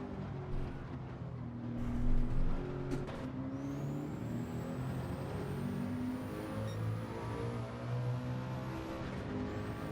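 A race car engine in Gran Turismo 7 on a time trial at Le Mans toward the Mulsanne straight, droning loudly and steadily throughout as the engine pitch climbs and settles through gear changes.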